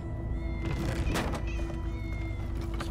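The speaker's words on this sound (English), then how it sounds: "Oh, many cats, so many cats." Several cats meow in Minecraft: Story Mode, overlapping close mews over a game background hum, one louder cry standing out midway.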